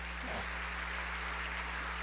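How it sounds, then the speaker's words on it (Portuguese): Members of a Baptist church congregation clap together during a Sunday morning service, a steady wash of applause that stays fairly soft and even throughout, with a constant low hum beneath it. "Queria que você aplaudisse aqui o nosso Barnabé"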